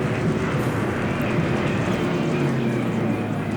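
A shot-down recon airplane in the War in the Pacific strategy game gives a steady, loud roaring rumble with a falling engine drone, heard alone without voices.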